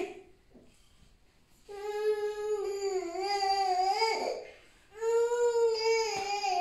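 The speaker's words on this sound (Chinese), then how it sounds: "每次洗澡他就哭。" A baby cries loudly during a bath in a rural home, wailing in two long, wavering bursts with a brief catch of breath between them; there is no speech.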